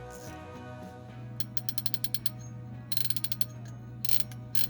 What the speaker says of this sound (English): Drag sound.